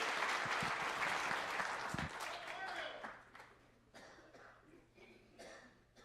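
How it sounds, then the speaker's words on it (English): Applause from an audience at a Southern Utah Republican candidate forum, a broad steady clapping for about three seconds that then fades, with a few scattered claps and murmurs afterward. "Please give him a big round of applause."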